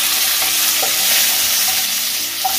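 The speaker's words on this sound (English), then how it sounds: "Let them fry and then now curry leaves and then mirchi" Curry leaves and green chillies fry in a hot pan of oil for Rayalaseema-style uggani, a puffed rice breakfast, giving a loud, steady, close-up sizzle with a few soft stirring ticks and no talking.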